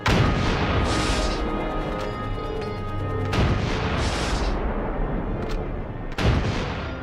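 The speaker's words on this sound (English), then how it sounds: "February 8th, 1945, Allied guns open fire." Allied artillery guns open fire in February 1945, heavy booms and continuous rumbling gunfire layered densely, with sharp blasts standing out at intervals.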